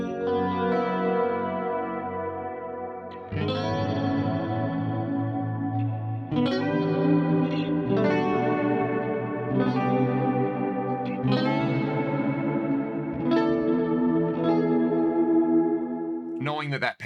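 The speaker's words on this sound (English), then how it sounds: "I love the way this sounds with the sort of halo setting from the Halo." Electric guitar played through a Halo effects pedal on its halo setting, with chords and notes that swell and blend into a long, shimmering, echoing decay that washes continuously for the whole passage.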